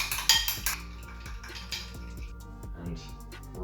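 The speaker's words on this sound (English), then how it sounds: "give it a quick whisk together" An egg being whisked in a bowl, a quick run of light metallic clinks and taps of a whisk against the bowl's side, close, with a voice speaking briefly over it.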